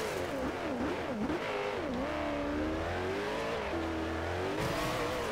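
A car in the racing game Forza Horizon 2 accelerating hard, its engine note rising and falling through rapid revs and gear changes, loud and continuous with brief tire squeal.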